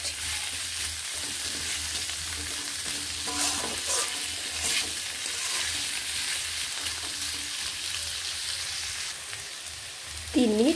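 Potatoes frying covered on a low flame give off a steady, even sizzle that runs unbroken throughout, with a brief clink of a utensil near the end.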